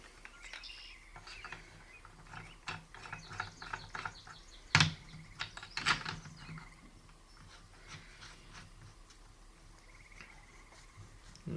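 An IR illuminator mount on a digital night vision scope is tightened by hand, with scattered small plastic clicks, rubs and fiddly handling noises up close, two sharper knocks near the middle, and no talking.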